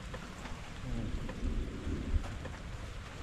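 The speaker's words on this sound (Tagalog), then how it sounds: "medyo mahina na rin yung ulan" Steady afternoon rain falls over a calamansi orchard, a continuous close hiss of drops with a low rumble of thunder underneath and no voices.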